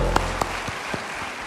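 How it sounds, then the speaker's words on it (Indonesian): A worshipping congregation at a church service claps in praise to God, a short stretch of applause with a few sharper individual claps standing out as sustained music fades beneath it. "tepuk tangan bagi Tuhan, haleluya"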